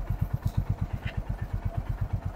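Motorcycle engine chugging at low revs as the rider slowly releases the clutch on a beginner's first ride, a fast regular thumping pulse, close and steady, with no talking.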